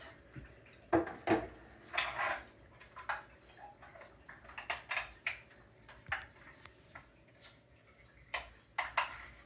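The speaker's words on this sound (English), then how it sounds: "Get right up to the top, and then you can close the" A lid screwed onto a glass jar filled with yarn and dye, giving a series of close, sharp clinks and ticks in uneven bursts with short pauses between them.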